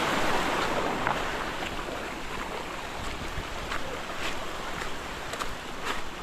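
Waterfall at a rocky bathing spot, a steady broadband roar of falling water close by, continuous and loud without pause, with no one talking over it.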